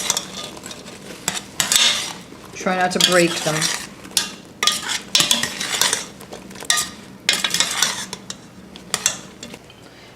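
A spoon stirs struffoli in boiling honey in a pan, scraping with irregular clinks and knocks, and a voice speaks briefly over the clatter.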